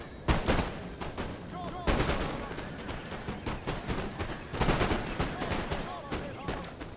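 Jaeger troops in Napoleon Total War fire muskets in dense, crackling volleys of overlapping shots that come and go in waves, with loud clustered bursts standing out against continuous battle noise.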